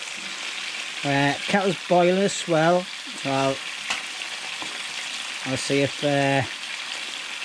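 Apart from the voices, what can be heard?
kettle boiling on home-made wood burner stove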